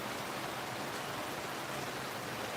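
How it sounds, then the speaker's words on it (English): Steady rain falling for hours during an outdoor livestream, a dense even hiss of drops with no pauses, fairly faint and unbroken by voices. "it has been raining for, you know, a good 4 or 5 hours now"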